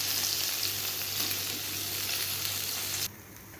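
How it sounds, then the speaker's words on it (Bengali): Koi fish frying in hot oil for a Bengali fish curry, a steady dense crackling sizzle that holds evenly close by and then drops abruptly to a quieter hiss near the end. "মাছগুলোকে ভেজে নেব"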